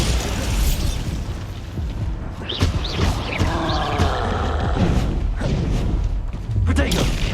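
A Bombarda explosion spell from Hogwarts Legacy goes off as a series of booming bursts and thuds, close and loud, mixed with other spell effects and game sounds across the stretch.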